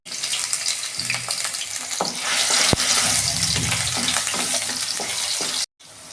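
Cut potato sizzles in white oil in a wok over a gas flame, a loud continuous frying hiss with occasional stirring clinks, close up and without talk, cutting off abruptly near the end.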